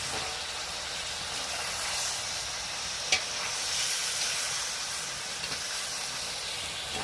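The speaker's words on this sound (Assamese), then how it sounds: "এতিয়া মই ধুনীয়াকৈ মাংসটো ভাজি দিলোঁ" Pork meat frying in a pan with chili, turmeric and spices, a soft, even sizzle and hiss held throughout with one brief clink of a utensil, quiet and close with no voices.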